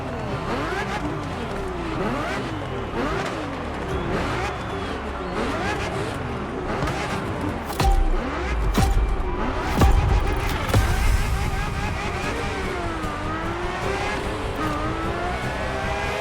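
A Ferrari F50 engine in the racing game The Crew Motorfest revs and climbs repeatedly through rising and falling pitch sweeps, loud and close, with heavier thumps midway and a narrator talking over it.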